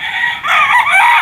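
A Sweater-bloodline gamecock rooster, a Boston Sweater F1, crows loudly and close, one long drawn-out cock-a-doodle-doo call with a short break near the start, heard alone without talk.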